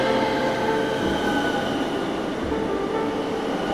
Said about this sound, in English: The train whistle blows, drawing their attention.